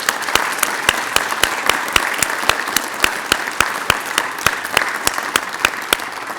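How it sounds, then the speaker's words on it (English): A breakfast crowd of supporters at a donor scholarship event applauds one another with steady, dense clapping that holds at an even level throughout. "Let's give each other a big round of applause."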